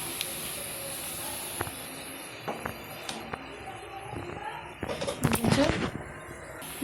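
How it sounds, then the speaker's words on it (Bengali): Taro leaves (kochu shak) dropped into a hot pan on a gas stove hiss and crackle, starting faint and building to a denser sizzle with sharp pops near the end, while a voice talks over it. "দেখো কচু শাকটা দিয়ে দিচ্ছি।"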